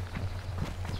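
Soft, steady footsteps in DayZ Standalone, an even walking rhythm of muffled thuds in woods over a low constant hum, with no talking.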